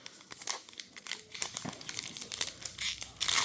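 Crinkling and tearing of a retro baseball card pack's foil wrapper being opened, quiet close crackles in short bursts throughout, with no talking.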